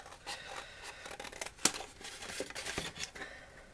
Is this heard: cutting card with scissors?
yes